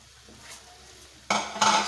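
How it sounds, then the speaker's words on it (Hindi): Chicken being stirred into a cream marinade in a metal bowl, starting with quiet light scraping and then turning to louder clattering and scraping of a spoon against the bowl. "इसको अच्छे से हमने मिक्स कर लेना है।"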